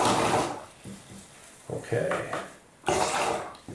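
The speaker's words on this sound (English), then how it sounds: "I'm going to give this fan brush a little rinse" A fan paintbrush is swished and rinsed in water, with a few short splashy bursts separated by quieter gaps and a brief spoken word.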